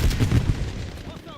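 Cluster strike artillery in Call of Duty Black Ops 7 lands as a rapid string of heavy booms and gunfire-like blasts, loud and close, fading within about a second.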